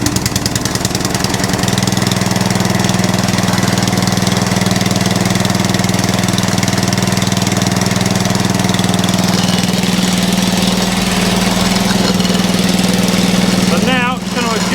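An Atco Balmoral reel mower engine runs loud and steady with its output shaft spinning, a constant close mechanical drone with a humming tone, and someone talks over it.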